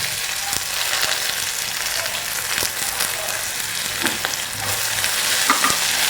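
Two small onions frying in a pan, a dense continuous sizzle with occasional soft stirring scrapes, steady and close, no talking.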